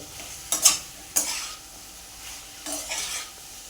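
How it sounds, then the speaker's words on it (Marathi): Eggplant pieces being stirred and sautéed in oil in a pan for a dry vegetable dish: a faint sizzle beneath a few quick spoon scrapes and stirs, with pauses between them. "वांग्याच्या फोडी सगळ्या टाकून घेतल्यात आता आपण ह्याला परतून घ्यायचं आहे"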